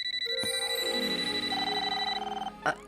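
A cartoon toaster rings like an old telephone bell, giving a steady, bright, tonal ring that sustains for a couple of seconds and ends with a short clunk.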